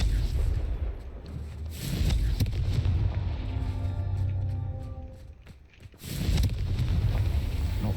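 Fire-spell explosions in the video game Hogwarts Legacy: repeated booming blasts with rumbling roars and crackling bursts, loud and layered over a dense game soundscape.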